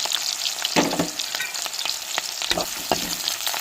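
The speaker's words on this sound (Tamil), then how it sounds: "வெட்டி வச்ச வெங்காயத்தையும் சேர்த்துக்கிறோம் ரெண்டு கருவேப்பிலை போட்டுக்கிறோம்" Onions, urad dal and curry leaves fry in hot oil with a dense, close crackling sizzle and a few stirring clicks, steady and fairly loud.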